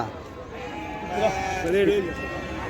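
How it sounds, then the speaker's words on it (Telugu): Goats at a livestock market in Angallu bleat twice, close by, amid a busy murmur and people talking. "ఫ్రెండ్స్ ఇక్కడ కొన్ని మేకలు ఉన్నాయి"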